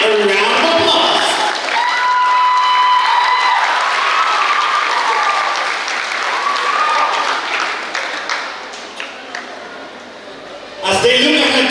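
Audience applause for the graduating class of 2026 at a high school graduation ceremony, sustained loud clapping across a large hall that tapers off near the end before a brief final burst.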